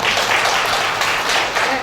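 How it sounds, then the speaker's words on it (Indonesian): An audience applauds at a national women's seminar, a dense, steady burst of many hands clapping that fills the whole short stretch without pause. "Tepuk tangan."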